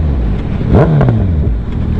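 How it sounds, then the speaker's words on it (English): A Suzuki Hayabusa race bike's exhaust revs up sharply and falls back, a brief throaty rise and drop over a steady nearby engine rumble. "I love the way that exhaust sounds on this bike."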